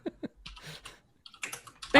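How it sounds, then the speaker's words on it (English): Quick clattering keystrokes on a computer keyboard during an online tabletop role-playing game session, several bursts of clicks close to the microphone with some talking mixed in. "Typing is hard."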